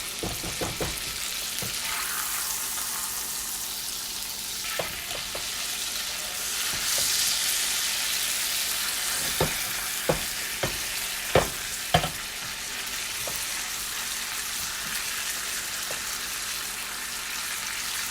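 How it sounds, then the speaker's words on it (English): Steak sizzling in a pan while being basted with hot fat, a constant close sizzle with repeated spoon clinks and scrapes against the pan, several sharper knocks near the end, no voices. "I'm just going to continue to baste it."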